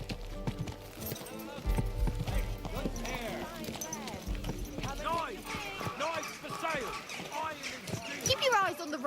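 Steady clopping hooves of a horse moving through a town in Kingdom Come Deliverance 2, mixed with crowd chatter, whinnies and nearby voices talking over the continuous hoofbeats.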